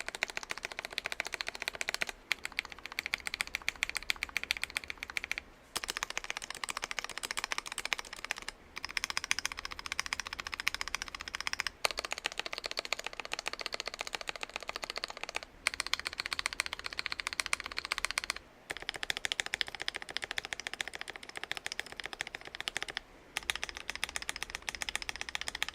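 A mechanical keyboard with tuned stabilizers is typed on steadily and close up, giving dense, rapid clacking in continuous bursts with a few brief pauses.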